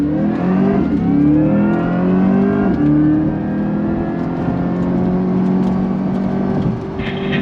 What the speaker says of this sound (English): here we are, solo lapping on throttle. Here we go, put in the drive. On throttle!